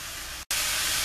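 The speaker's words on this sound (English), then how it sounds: "It's frying now, guys." Cabbage frying in a pan gives a steady, loud broadband sizzle, broken by one brief silent gap before the hiss resumes even stronger.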